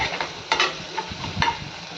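Sliced onions frying in a pan for chicken sukka, with steady oily sizzling and a few sharp scraping stirs of a spoon against the pan, close and fairly loud with no talking.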